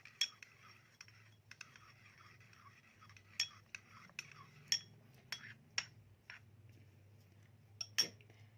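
Spoon stirring chia seeds and raw milk for a face mask, with quiet, sporadic metallic clinks against a bowl over faint background hum.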